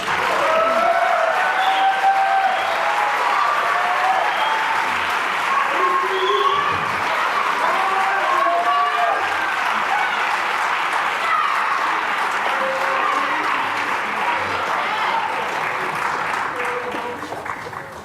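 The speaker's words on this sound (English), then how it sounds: "It's not often you get that kind of cheering at a choir concert" An audience at a choir concert cheering and applauding, sustained dense clapping with whoops and shouts throughout, tapering off at the end.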